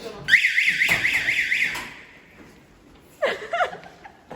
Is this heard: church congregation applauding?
no